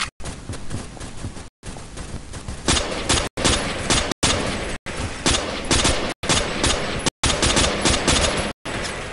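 World War era guns firing in the game Phantom Forces, loud rapid bursts of automatic fire broken by short gaps and sharp single cracks over a dense battle din.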